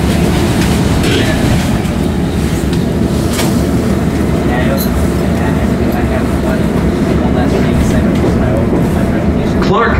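A CTA Blue Line train toward O'Hare rumbles steadily between Washington and Clark/Lake, a continuous loud low roar of wheels and motors with faint rattles throughout.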